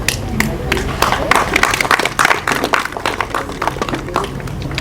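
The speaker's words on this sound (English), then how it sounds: "I don't think we give them enough applause." Audience applause at a startup venture capital launch event in Uganda: dense, steady clapping from a crowd of moderate size, lasting the whole stretch, fairly close.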